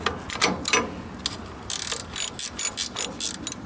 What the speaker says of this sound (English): Use my ratchet wrench in there.